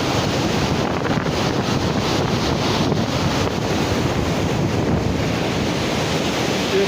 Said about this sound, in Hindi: बहुत ज़्यादा यहाँ से तेज़ी से पानी का बहाव है, इसलिए ये शोर हो रहा है